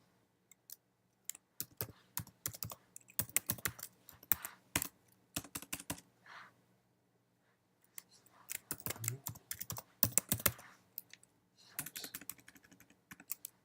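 Typing on a computer keyboard while entering a telnet username and password, bursts of quick close key clicks broken by short pauses, with a brief spoken word midway.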